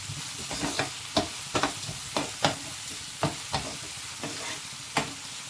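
A spoon scrapes and knocks through bun dosa batter in a bowl, with about a dozen sharp, close clicks spaced irregularly over a soft background.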